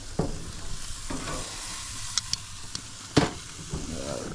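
Ribeye steaks on a grill with the fat cooking and sizzling, a soft steady crackle overlaid by scattered pops and a couple of sharper knocks, close by, with no talking.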